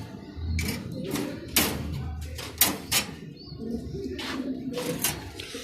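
Pigeons coo in a loft while feeding their young, low soft calls repeating among several birds, with brief rustles and chirps mixed in close by.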